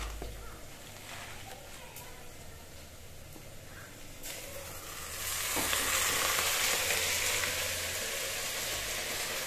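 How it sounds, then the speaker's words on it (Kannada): Onions and leafy greens fry in a pan for a village-style greens curry. A soft crackling sizzle becomes louder and denser partway through as the greens go in, then holds steady. "ಈಗ ಎಲ್ಲ ಒಂದು ಸ್ವಲ್ಪ ಫ್ರೈ ಆಗಿದೆ ಈರುಳ್ಳಿ. ಈಗ ಮತ್ತು ಸೊಪ್ಪು ಎಲ್ಲ ಹಾಕ್ತಾಯಿದ್ದೀನಿ"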